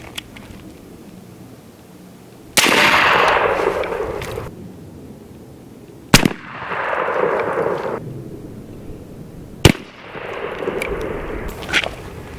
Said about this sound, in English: Let's take a shot here at the 20-yard mark, dead center of that target, and see what happens.